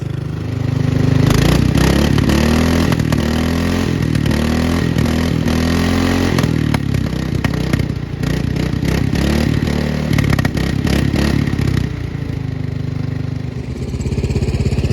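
Lawn tractor engine running up close on a farm property, a loud steady rattling idle with clattering mechanical knocks and scraping, dropping slightly in pitch near the end.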